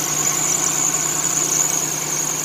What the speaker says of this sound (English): Nothing like the sweet sound of a front-wheel drive V6.